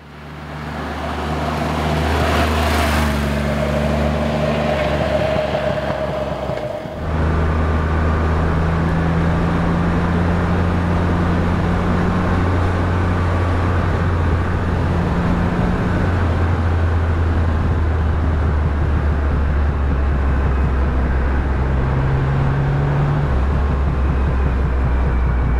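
A Triumph Rocket 3 motorcycle engine droning steadily while riding, a loud, constant low rumble with wind rush, the pitch shifting slightly as the bike moves along.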